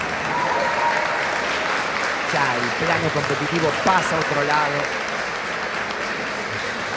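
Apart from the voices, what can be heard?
applause in arena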